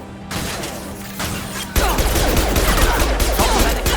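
Bursts of gunfire in the game Mass Effect 2, a loud, dense rattle of rapid shots that swells into continuous heavy fire after a brief lighter opening.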